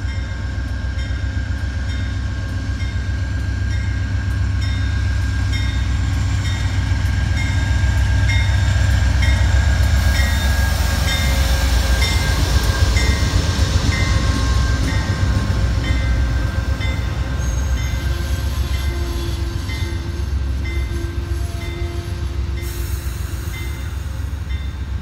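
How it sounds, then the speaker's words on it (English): The southbound Amtrak 461 Valley Flyer train departs Greenfield, Mass. station with a heavy, continuous rumble and steady tonal whine that grows slightly louder, and no one speaks. "Amtrak 461 Valley Flyer, southbound, Greenfield, Mass."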